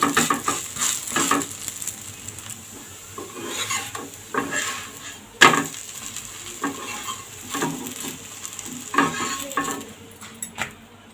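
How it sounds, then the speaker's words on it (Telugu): Bottle gourd dosa browning on a hot pan: soft, steady sizzling with intermittent scraping and rubbing strokes at close range, no voices. "ఈ విధంగా గోల్డెన్ కలర్ వచ్చేంత వరకు బాగా కాల్చుకుంటే బాగుంటుందండి."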